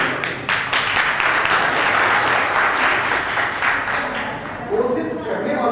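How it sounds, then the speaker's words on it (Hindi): A group of children clapping together during a spoken lesson, a dense, steady patter of hands lasting several seconds at close range, with a voice faintly present alongside. "तालियां बजा दे बच्चे।"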